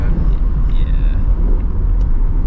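2025 Ford Mustang GT S650 with 10-speed transmission, engine rumbling low and steady while driving, heard from inside the cabin as a continuous deep drone with faint road noise.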